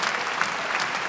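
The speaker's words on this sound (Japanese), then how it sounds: "おい、お客さん、拍手だ。" A pro wrestling crowd at a Japanese championship match applauds in a steady, moderately loud patter of many hands, with faint voices underneath.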